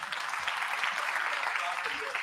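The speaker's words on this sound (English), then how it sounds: "I request you to give a huge round of applause for global NRI forum" An audience at a Boston meet-and-greet event gives steady, close applause for the Global NRI Forum, the clapping continuous and even throughout, with a voice faintly present underneath.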